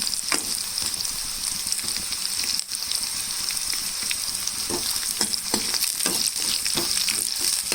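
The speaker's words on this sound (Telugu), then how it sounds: "మిక్సీ వేసాక 30 సెకండ్స్కి ఇలా పల్లీలు వేసి చక్కగా వేయించుకోవాలి." Peanuts fry in oil in a pan for a raw mango pulihora tempering, giving a continuous close crackling sizzle broken by frequent scraping stirs, with no talking.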